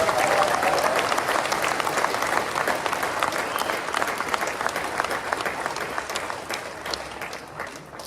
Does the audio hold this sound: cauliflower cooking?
no